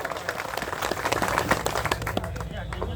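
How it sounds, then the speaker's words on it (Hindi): Audience applause welcoming guests at a farmers' meeting, a dense patter of many hands clapping at once, steady and moderately loud, with voices speaking over it. "मैं सभी से निवेदन करूंगा ताली बजा के एक बार आपका स्वागत करें।"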